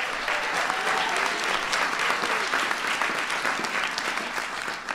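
Sustained applause from a large audience at a White House event, a dense, steady wash of many hands clapping that holds evenly throughout without any talk over it.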